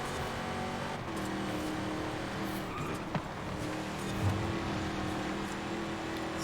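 A 1969 Ford Mustang Boss 302 accelerates in the racing video game Forza Horizon 5, a steady engine drone with brief tire noise, moderately loud and continuous.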